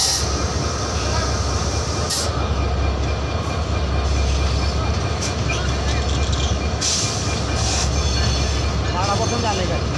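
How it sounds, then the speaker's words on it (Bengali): A train arriving at Dhaka's Kamalapur railway station rumbles loudly and continuously close by, wheels grinding and clattering on the rails with occasional squeals and hisses. "একটি ট্রেন কমলাপুর রেল স্টেশনে প্রবেশ করলো"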